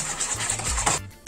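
A spoon scrapes and stirs kefir pancake batter in a bowl, a quick rhythmic scraping up close, ending with a final knock.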